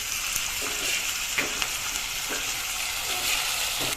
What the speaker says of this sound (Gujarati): હવે જે આ પેસ્ટ બનાવી છે એ નાખશું